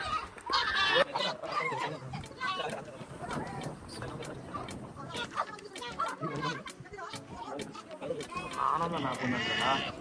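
A flock of sheep bleats repeatedly in an outdoor rural setting, many overlapping calls near and far, mixed with people chattering throughout.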